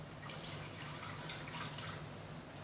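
Water poured into a pot for steaming idli, a steady soft rushing splash of liquid that runs continuously at moderate level, without talk.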